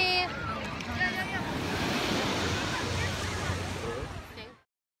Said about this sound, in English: We're just chilling at the beach.